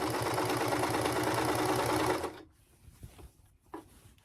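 A sewing machine stitching the seams of a beginner dress, its needle chattering in a fast, steady rhythm for about two seconds, then stopping and leaving only faint handling noises.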